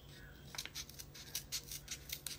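Scissors cutting through material are heard as a string of faint, crisp snips at irregular intervals, close to the listener, over a quiet background hiss.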